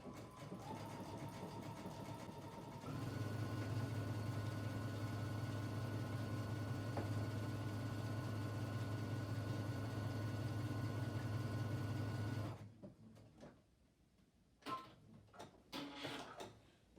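Sewing machine running an overcast stitch along the edge of a fabric face mask, a steady mechanical whir and clatter lasting about ten seconds, then it stops, followed by a few faint handling sounds.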